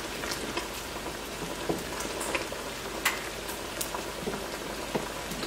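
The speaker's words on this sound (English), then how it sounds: "Let that boil about 2 minutes, and I'm going to keep stirring it so it doesn't boil over" Homemade cinnamon jelly with pectin bubbles at a steady boil while a spoon stirs the pot. Close, soft popping and bursting with scattered clicks runs on for several seconds, and no one speaks.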